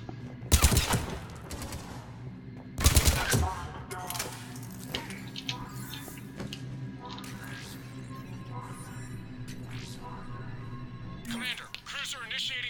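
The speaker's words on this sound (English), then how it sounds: "Commander, cruiser initiating bombardment." Cruiser bombardment in the video game Mass Effect 3, with two heavy booming blasts close together near the start followed by scattered crackling gunfire and effects under game dialogue.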